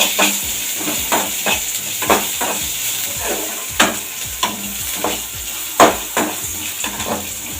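Dried chillies and spices are sautéed in a pan for a ridge gourd stir-fry. A steady frying sizzle runs throughout, punctuated by regular scraping stirs of a spoon against the pan, with a few louder knocks.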